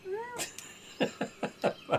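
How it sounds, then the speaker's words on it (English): A cat meows several times in quick succession, one rising drawn-out call followed by a string of short, close meows. "Did you meow?"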